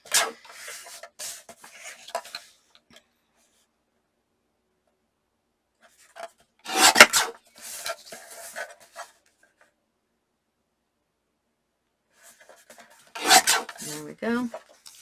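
Quilt fabric scraps being trimmed to size, a close rasping cut sounding in a few short bursts with quiet gaps in between.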